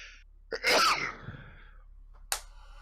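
A single sharp sneeze bursts out, close and loud, followed by a brief quiet tail and a short breathy sound near the end.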